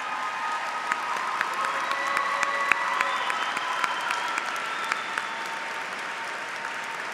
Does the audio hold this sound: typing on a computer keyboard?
no